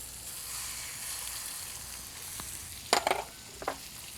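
Eggs frying in egg rings on a flat griddle, a steady low sizzle throughout, broken near the end by a few light clinks and scrapes of handling.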